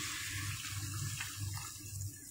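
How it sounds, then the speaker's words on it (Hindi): Water pours steadily into a pan while black pepper chicken gravy is made. There is a continuous splashing, trickling flow, close and fairly quiet, with no talking. "और इसमें डाल दें आप इतना पानी जितनी आपने ग्रेवी रेडी करनी है।"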